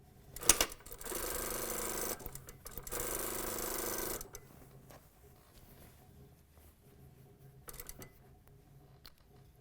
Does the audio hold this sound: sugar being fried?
no